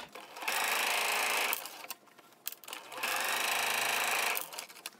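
A sewing machine stitching darts on a cloth face mask, two long steady runs of loud, fast, close whirring separated by a short pause with small handling clicks.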